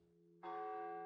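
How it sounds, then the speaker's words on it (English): A video game clock tower bell strikes once with a bright, sustained metallic ring over a quiet low tone, loud and alone. "That's the clock tower that chimes every hour."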